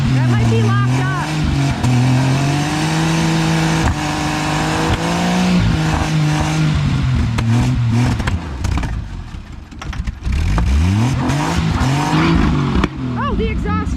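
A loud 1980 Jeep CJ7 engine, sitting unused for 20 years, revs and roars in bursts with harsh, rattling exhaust noise from a disconnected exhaust, while voices talk over it.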